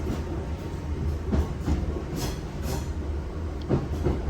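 A passenger train heading toward Southport runs on bullhead rail, with a steady loud rumble of wheels and periodic clicks from rail joints throughout, with no voices.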